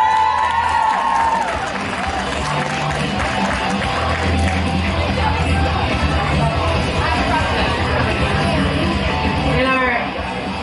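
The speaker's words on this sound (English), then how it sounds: "applause!" The audience at the Cryticon 2021 convention cosplay show cheers and claps, a sustained, loud wash of crowd noise with yells and shouts filling the hall after a brief voice at the start.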